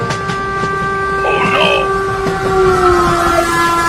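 A train runs on rails with steady rolling rumble and sustained horn-like tones, continuous and fairly loud, in a dramatic scene about two trains heading for a collision.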